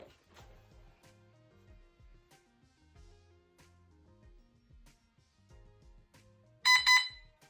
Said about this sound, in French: on branche et on attend les 2 bips du contrôleur.